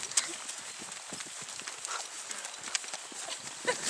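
Horse hooves clip-clop in a quick, uneven rhythm on a trek in Kyrgyzstan, faint and somewhat distant against a soft outdoor background.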